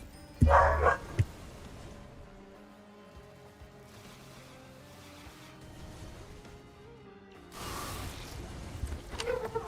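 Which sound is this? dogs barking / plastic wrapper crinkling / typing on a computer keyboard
dogs barking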